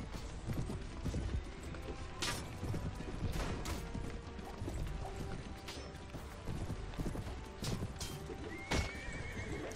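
Horse hooves clip-clop at a gallop with repeated neighs and whinnies in the medieval battle game Mount and Blade Warband, steady and fairly close with no talk.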